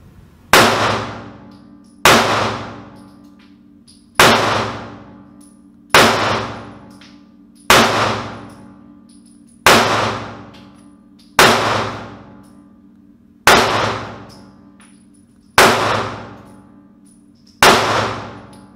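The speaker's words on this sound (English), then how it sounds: "every time I squeeze the trigger on the gun" Nine loud gunshots from a SCCY CPX-2 pistol, evenly spaced about two seconds apart, each a sharp crack with a ringing decay, fired close by with no talking.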